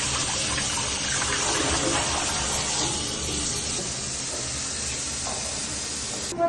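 Water gushing steadily from a tap after the valve is opened, a continuous broad hissing rush at close range with no voices, ending in a small knock.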